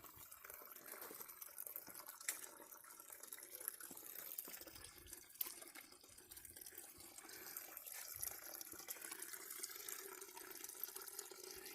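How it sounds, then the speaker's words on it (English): Small creek on the South Oak Creek hiking trail near Las Vegas, its water running steadily over rough desert terrain in a constant close trickle and splash with no talking. "Got a cool little creek."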